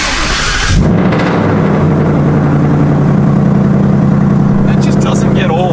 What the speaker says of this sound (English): You guys know the Mustang sounds incredible